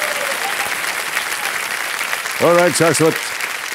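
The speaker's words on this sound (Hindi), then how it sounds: "एक बार फिर जोरदार तालियां बज जाए।" A KBC quiz-show studio audience claps in sustained, dense applause, while a voice briefly speaks over it near the end.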